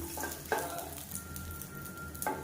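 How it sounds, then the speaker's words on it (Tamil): Garlic and a small piece of tamarind sautéing in hot oil for a betel leaf thogayal, a steady close sizzle with a few soft stirring scrapes and no one talking. "இப்போ இது எல்லாமே நல்லா அந்த எண்ணெயில் வதங்கட்டும்"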